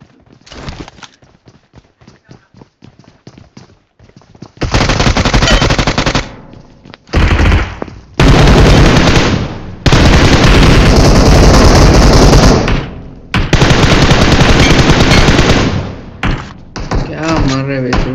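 Bursts of automatic gunfire from the BGMI battle royale game, with long loud volleys, short gaps and a few single shots, starting after quieter rattling sounds.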